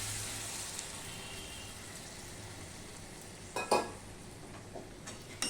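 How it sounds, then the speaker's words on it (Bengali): Spiced small fish masala with turmeric and a splash of water cooks in a pan, a low steady sizzle running under a couple of brief spoon scrapes and clinks near the end. "এবার সম্পূর্ণটাকে আমি ভালো করে মিশিয়ে নেব"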